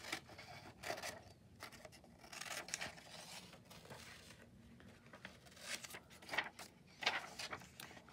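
Scissors cutting out paper elements, quiet close snipping and rustling of paper in an irregular rhythm with no voices.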